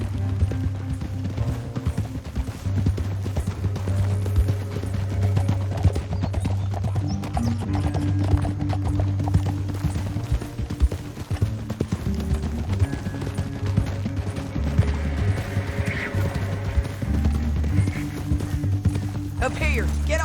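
Hoofbeats of a horse ridden in Red Dead Redemption 2 keep up a steady clip-clop for the whole stretch, mixed under a constant, loud western music score and game ambience.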